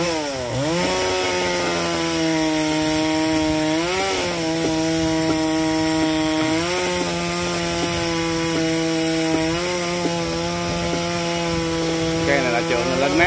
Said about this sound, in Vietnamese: Cái này là có nghĩa là cưa mé nhánh cho nó gọn